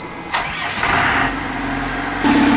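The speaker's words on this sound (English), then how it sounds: "Firing up the engine." A sailboat's inboard engine starts up, with a brief cranking whir that catches and settles into a close, steady idle.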